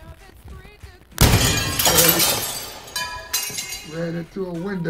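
A bird strikes a window with a sudden loud crash and shattering glass that rings and tinkles as it settles, followed by a voice talking.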